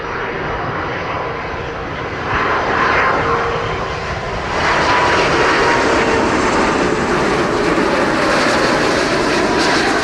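A Delta Air Lines airliner on approach to runway 07 at Montego Bay, Jamaica, produces a loud, steady jet-engine roar that swells slightly as it passes overhead.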